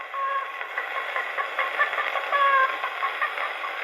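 A voice imitates chickens cackling, a continuous stream of high, choppy clucks and squawks without a break.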